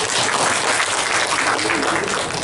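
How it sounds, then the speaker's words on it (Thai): Dense, loud clapping from a large audience at a Thai workplace seminar, a continuous wash of applause filling the room in agreement with the speaker, steady throughout. "เห็นด้วยปรบมือดังๆครับ"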